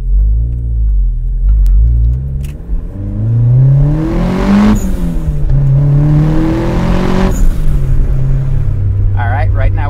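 A turbocharged Mazda Miata running at 9 psi boost accelerates hard from 0 to 60 mph, its engine note climbing through rising revs with a shift or two, loud and close from inside the car.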